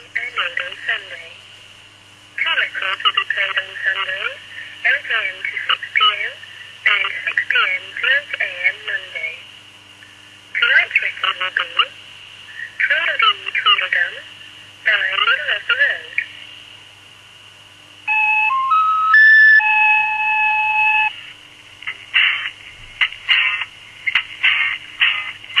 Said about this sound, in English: All that is just an old dialer disc recording I found on the internet